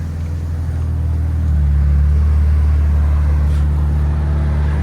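A straight-piped 2023 Nissan Z with a 3.0L twin turbo engine idles with a deep, loud exhaust drone, then steps up to a slightly higher, steady rumble, close and alone.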